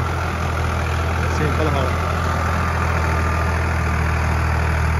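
A 2018 model tractor, a Mahindra 575 or Farmtrac 45 fitted with a plough, idling steadily with a low, constant engine drone while someone talks nearby.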